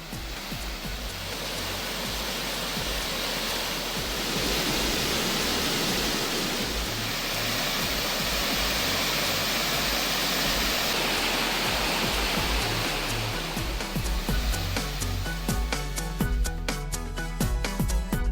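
Water of Kumbakkarai waterfall in Theni district, Tamil Nadu, flows at a steady rate, a loud unbroken rushing roar that holds even throughout, alone with no voices.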